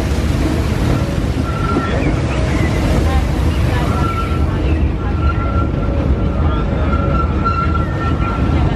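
Disneyland Railroad train at Disneyland Resort in Anaheim rolls along outdoor track, a steady broad rumble with wind buffeting and faint high squeals from the wheels, continuous and fairly loud with no voices.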